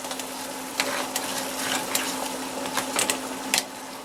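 Nokedli dough is scraped through a grater into a pot in a repeated rhythm of short rasping strokes, close and fairly loud over a low steady hum and faint bubbling.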